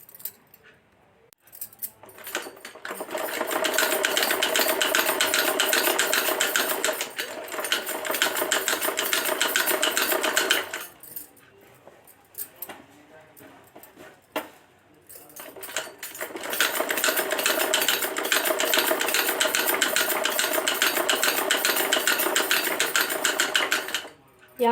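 A sewing machine stitches fabric in two long loud bursts of rapid needle clatter and motor whir, split by a pause with faint handling noise, while cloth for men's front-cut underwear is sewn at home.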